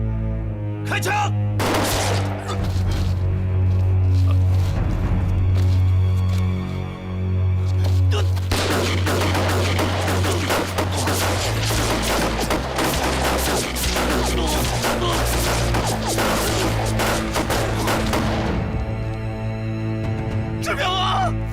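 Sustained bursts of gunfire in a kung fu war movie battle, loud rapid volleys crackling almost continuously for about twenty seconds over a low hum, with voices shouting among the shots.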